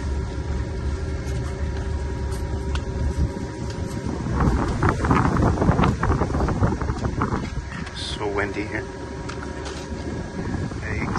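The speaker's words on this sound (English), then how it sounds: "Windy here." Gusty wind buffets the microphone outdoors beside a Trane CGAM070F chiller, a steady rough rumble that swells louder for a few seconds midway before easing back, with faint voice-like sounds mixed in.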